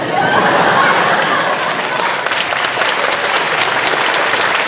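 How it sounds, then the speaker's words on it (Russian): A stand-up comedy audience breaks into loud, close clapping mixed with laughter and crowd murmur, a dense burst that stays strong for several seconds. "Вы слышите, они смеются и хлопают."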